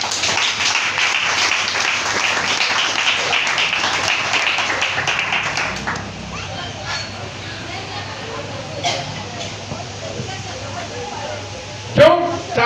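A church congregation applauds together, steady clapping for several seconds that then fades into quieter room noise, with a preacher's voice and scattered sounds following.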